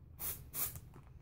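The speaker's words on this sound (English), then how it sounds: "Do you mind if I do a sniff test?" Two quick, breathy sniffs close up, each a short airy rush, followed by a quieter fading breath against a low background hum.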